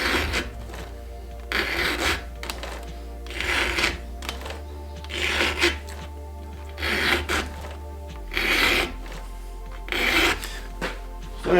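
A Husqvarna chainsaw chain being filed by hand with a file, producing regular rasping strokes about once a second, each a bright scraping rub at close range over a steady low hum.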